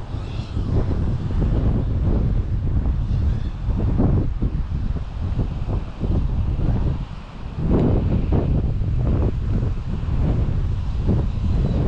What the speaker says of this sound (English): It's also very, very windy